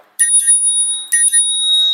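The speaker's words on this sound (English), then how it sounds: "this one comes with a bell" A bicycle bell rings twice, two bright, close metallic dings about a second apart, each with a long clear ring-out, and no other sound.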